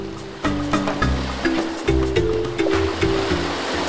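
Surf washing onto a small Caribbean island beach, broad wave wash rising in repeated surges roughly every half second to second, fairly close and steady, with a faint musical tone layered in and no talking.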